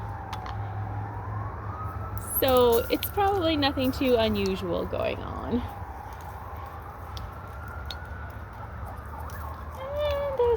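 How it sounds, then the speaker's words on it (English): An emergency siren wails from a highway near a home garden, its rising and falling tone carrying in from a distance, while a person talks nearby over it. "Excuse all the sirens. We live close to the highway and we often hear sirens."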